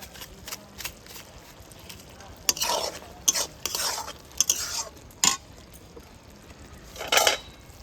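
Masala pasta being stirred and mixed in a pan, repeated bursts of spoon scraping and clinking over a faint sizzle, close and uneven in rhythm.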